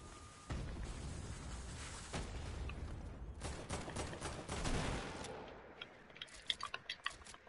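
Video game gunfire rattles in quick repeated shots through a dense, noisy firefight, fading into scattered sharp pops at the end.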